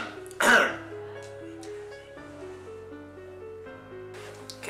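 A single loud, sharp cough bursts out near the start, then fades into a quiet room with a faint musical hum in the background.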